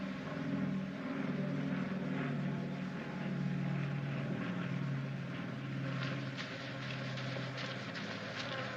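A propeller aircraft drones overhead in a wartime setting, a steady low hum that holds throughout, with faint insect-like buzzing mixed in and no speech.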